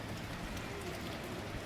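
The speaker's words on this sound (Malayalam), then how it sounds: "ഓക്കെ, മഴ, ഭയങ്കര മഴ." Heavy rain pouring down on a rainy day in Trivandrum, a dense, continuous hiss of drops on surfaces that holds steady and loud throughout.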